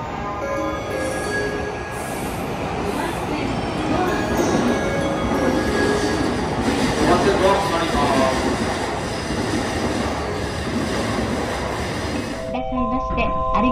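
A train departs a Japanese station toward Utsunomiya, wheels and motor droning, with Japanese platform announcements and voices under the noise before it fades out at the end.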